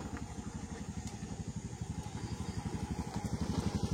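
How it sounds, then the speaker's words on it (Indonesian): A motorcycle engine idling close by, a fast, even low-pitched chugging pulse that holds steady and grows slightly louder over four seconds, with no talk over it. "Kan ini motor yang tadi."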